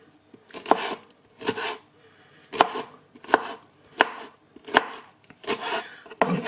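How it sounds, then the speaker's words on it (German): A knife chops ripe apricots into pieces on a board in steady, close strokes, about eight sharp thuds spaced roughly a second apart with brief scraping between them and no voices. "Und dann schneide ich sie einfach in Stücke."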